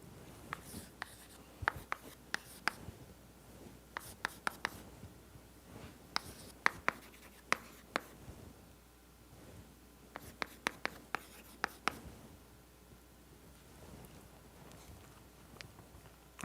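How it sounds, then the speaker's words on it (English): Chalk tapping and scraping on a board as a lecturer writes out a doctoral-level differential equations derivation, coming in quiet clustered bursts of short strokes separated by pauses, with no talking. "I'm going to just write this."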